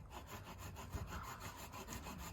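Tree branches are sawn in a spring garden, a steady rasping hand-saw rhythm of repeated back-and-forth strokes, close but fairly quiet, with no talking.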